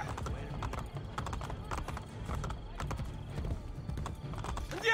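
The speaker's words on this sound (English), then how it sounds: "Come on, horse, let's go." Quick, steady clip-clop of galloping horse hooves in Assassin's Creed Brotherhood, faint and continuous, with a whinny-like tone mixed in.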